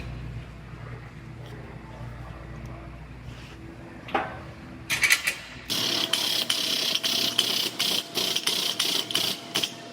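Bolts are worked loose on a vehicle frame during side-sway repair, with a series of rapid, evenly spaced metallic ratcheting bursts that grow louder and sharper midway, following a quieter stretch of low mechanical hum.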